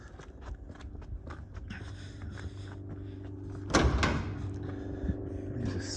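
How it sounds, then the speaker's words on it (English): Rear doors of a 2006 Mercedes Sprinter 311 CDi LWB van with a ply-lined load area are opened: a low handle clunk and a loud latch thump, then a rattle as a door swings, over a quiet outdoor background. "I'll open the back up so you can see into the back"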